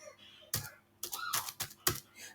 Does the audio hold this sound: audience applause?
no